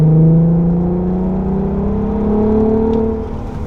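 A Golf Mk1 GTI fitted with a swapped 3.2 VR6 engine drives along, its engine giving a loud, steady, droning growl whose pitch slowly rises and falls with the throttle, heard alone and up close.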